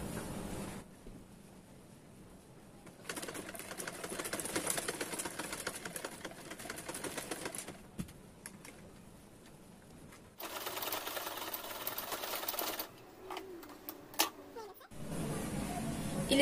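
A sewing machine runs in bursts while stitching the side seams of a pair of ladies' cigarette pants, with a steady mechanical whir between quieter pauses as the fabric is repositioned.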